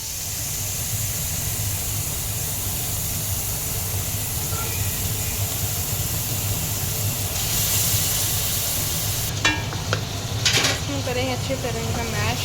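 Chicken sizzles in a little oil over a medium flame, a steady crackling hiss throughout, with some clattering and brief harmonic sounds toward the end.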